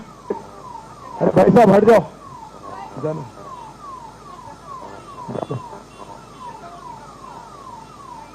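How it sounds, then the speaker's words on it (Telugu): An ambulance siren wails in a repeating falling tone through a political road show crowd, with a loud burst of noise early on and people talking over it. "అంబులెన్స్ పోనీయండి తమ జరగండి సార్"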